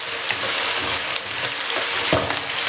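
Diced potatoes sizzling in hot oil in a pan during pulao preparation, a steady broadband frying hiss with small crackles and stirring scrapes, close and continuous with no talk.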